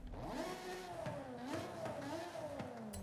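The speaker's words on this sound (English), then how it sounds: "Oh, that sounds naughty. I'm putting an exhaust on that." A car engine fitted with a new exhaust in Forza Horizon 5 revs and burbles steadily, its pitch rising and falling in close, continuous waves with no voices.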